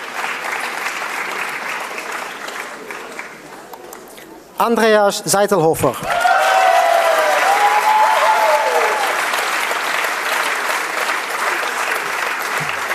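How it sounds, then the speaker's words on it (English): Graduation-ceremony audience applause for MBA and EMBA graduates, with dense clapping throughout; a voice on the public address reads out a name partway through while the applause carries on steadily underneath. "please a round of applause"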